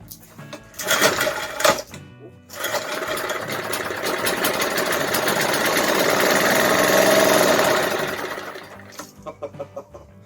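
A small engine sputters briefly, then catches and runs steadily with a rattling, buzzing drone that swells and fades, close by.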